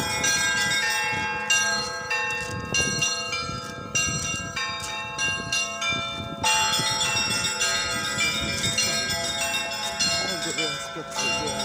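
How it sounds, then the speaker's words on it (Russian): Church bells ring in repeated, overlapping strikes, several bells of different pitch pealing in a steady rhythm at moderate loudness, each stroke ringing on as the next begins. "вот у нас колокола уже звенят"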